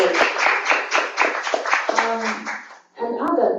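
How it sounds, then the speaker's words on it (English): Clapping during an online tech community talk, heard as quick, close claps in a steady run mixed with a voice speaking over them, then a short gap before a final brief burst of claps. "Applause to her."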